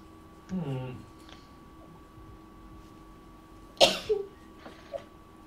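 A single sharp sneeze bursts out near the middle, with a short cough-like sound earlier and soft murmurs of voices around it during a tabletop card game.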